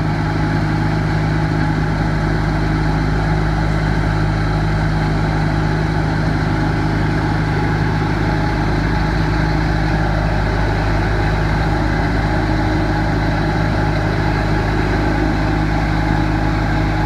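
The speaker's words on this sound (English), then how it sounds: "So he is cranking up the suction on this truck." A leaf vacuum truck runs its suction system, a loud, steady engine drone with a constant mechanical hum and hiss that holds unbroken for the full stretch, close by, with no talking.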